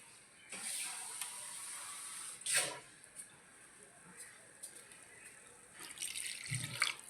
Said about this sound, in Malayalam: കുറച്ചും കൂടെ വെള്ളം ഒഴിച്ചു കൊടുത്തു